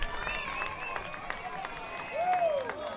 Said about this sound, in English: listen to that Laramie crowd